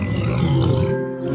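A chained tiger lets out a loud, deep, growling roar at close range, one sustained rumbling call that tails off quickly.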